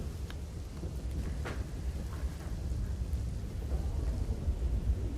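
Heavy rain falling steadily in a low, dense wash with a deep rumble underneath, continuous and fairly quiet, without voices.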